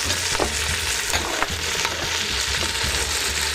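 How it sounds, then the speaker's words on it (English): Vegetables sauté in a pot as the base of a tomato-based chili, a loud continuous sizzle broken by repeated stirring scrapes, with no talk. "I'm gonna saute our vegetables and get the base of the chili going"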